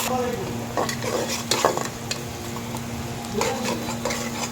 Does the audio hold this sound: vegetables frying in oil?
yes